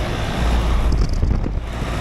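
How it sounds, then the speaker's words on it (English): Small rotary compressor of a 2014 HVAC unit running outdoors, a steady low rumble with airy broadband noise, close and loud without pauses. "That's the compressor sound."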